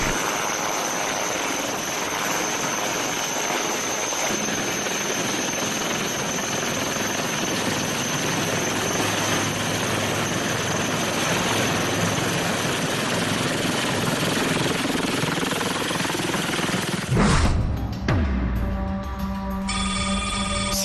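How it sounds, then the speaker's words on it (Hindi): A HAL Dhruv Mark 3 helicopter with a carbon fibre body at the Siachen glacier base camp; its engine and rotor drone loudly and steadily for most of the stretch, then cut off abruptly near the end. "अपनी कार्बन फाइबर बॉडी की वजह से इस हेलीकॉप्टर का वजन बहुत कम है।"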